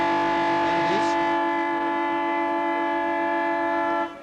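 A long, steady, tonal siren blares at a football ground as a quarter ends, holding one loud drawn-out pitch for about four seconds before cutting off abruptly.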